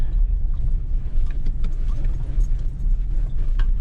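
A Ford Ranger with Icon suspension climbing a steep trail, a loud, steady low engine rumble with gritty rattles and crunches layered over it, close and continuous without speech.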